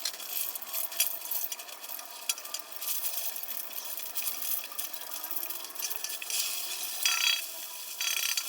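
Lumpiang gulay, vegetable spring rolls, frying in vegetable oil, a continuous bright crackling sizzle heard up close, steady and fairly loud, with occasional bursts of popping.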